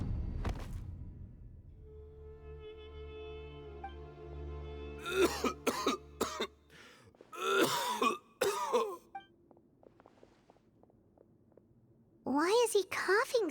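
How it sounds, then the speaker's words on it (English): A character in the video game Genshin Impact coughs and clears his throat in several rough bursts, loud and close, between stretches of quiet and a low background tone, with other voices speaking briefly. "Why is he coughing so much?"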